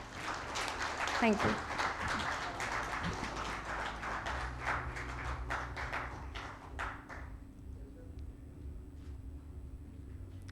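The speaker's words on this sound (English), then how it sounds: "Can we please keep those claps continue?" Applause from the audience at a 2022 learning and development summit awards ceremony, a dense patter of clapping filling the first seven seconds under a voice, then fading out to quiet room tone.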